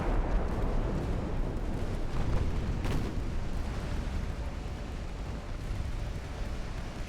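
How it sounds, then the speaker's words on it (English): Naval gunfire from warships in the Ultimate Admiral Dreadnoughts video game rolls out as a continuous rumbling barrage of distant booms, one sharper blast cutting through near the middle, with no talk. "let's fire main guns at that light cruiser"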